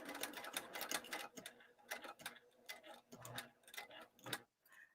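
A sewing machine stitches lining along an edge of a Mkoba bag, giving short bursts of rapid clicking and ticking stitches with brief pauses, close and fairly quiet.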